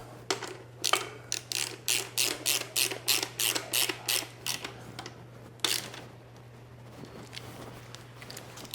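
A ratchet tightens the mounting bolts of a Janus fly screen, making a run of about a dozen rhythmic ratcheting clicks. A few scattered clicks follow, all over a steady low hum.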